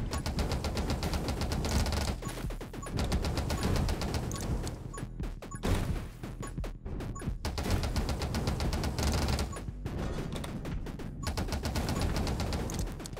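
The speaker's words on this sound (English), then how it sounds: "we are shooting a lot of bullets" Rapid, dense bursts of gunfire from the video game 20 Minutes Till Dawn, a loud continuous barrage of shots and impacts with short gaps, no talking.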